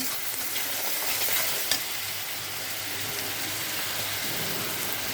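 Chopped onions with salt being stirred in a hot pan, a dense, steady frying sizzle close up, with one brief knock of the spatula.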